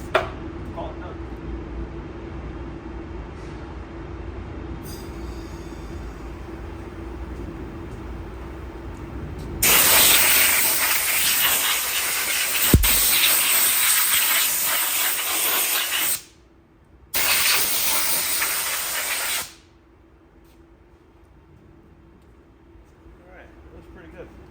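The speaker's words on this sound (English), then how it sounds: "Maybe blow it off a little bit of air." Compressed air blows off a freshly repainted transfer case in two loud, close hissing bursts of several seconds each, separated by a short pause, with quiet shop background before and after.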